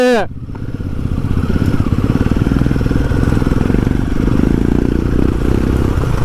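A motor scooter engine hums steadily and close by, a continuous buzzing drone that holds level throughout the ride.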